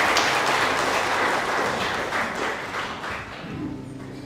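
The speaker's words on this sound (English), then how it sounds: "Another round of applause" Audience applause at a memorial service, a dense, sustained wash of many hands clapping that gradually eases toward the end.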